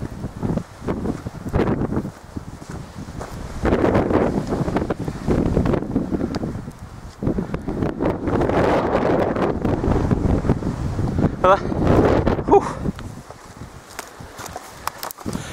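Strong gusts of wind buffet the microphone on Beacon Batch hilltop in the Mendip Hills, roaring and fluctuating in loud rushes with brief lulls, and no voices.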